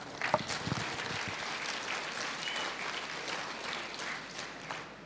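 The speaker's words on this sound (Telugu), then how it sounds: "ఒకసారి వీళ్ళకి క్లాప్స్ ఇద్దాం" At a Vestige business meeting, an indoor audience claps for the directors with steady, even applause that lasts throughout at moderate volume.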